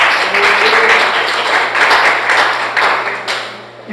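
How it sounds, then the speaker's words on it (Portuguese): A church congregation applauding during a sermon: dense, sustained clapping, loud and close, swelling and easing in waves over a few seconds. "Pode aplaudir o Senhor Jesus?"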